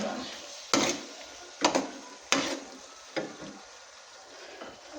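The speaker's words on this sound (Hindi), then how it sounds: "ये भूनना शुरू हो गया।" Chicken curry (salan) frying in ghee and oil in a pan: a soft, steady sizzle broken by several sharp stirring scrapes and clacks of a spoon against the pot, close by, with no talking.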